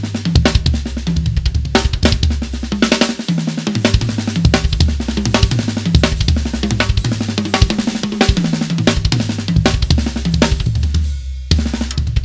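Solo drum kit passage built on paradiddle sticking, dense rapid strokes with repeated low kick and tom hits, cymbal wash and sharp snare accents shifting through broken, irregular phrases, loud and close with no talking.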